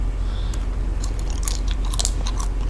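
Fries are bitten and chewed close up, a series of crisp crunches in quick bursts over a steady background, with no talking.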